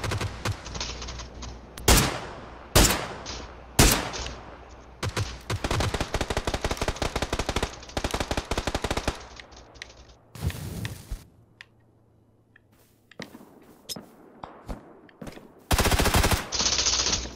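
Gunfire in a PUBG match on Xbox One: bursts of automatic fire and sharp single shots, loud and close, broken by short pauses and a near-silent stretch, with no talking.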